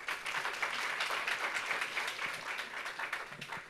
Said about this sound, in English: I think it deserves applause.